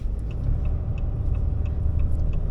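A 2026 Ram Mega Cab work truck with a 6.7L Cummins diesel runs its exhaust brake while coasting off the throttle, giving a deep, loud rumbling drone with a rapid, regular pulsing chatter close by.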